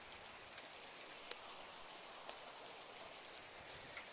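Hail falling outside, heard as a dense, steady patter of small impacts with a few sharper isolated hits, fairly faint and continuous with no voices.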